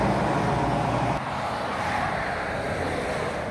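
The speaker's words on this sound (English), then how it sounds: "all the loud trucks decided to go by" Loud trucks pass on a road outside a house, making a dense, continuous rumble and roar that stays strong throughout, slightly easing partway through.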